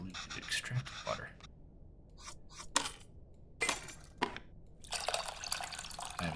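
Water poured into a bowl of tamarind in the cooking game Venba, short splashing pours and drips in separate bursts with quiet gaps, close and fairly soft.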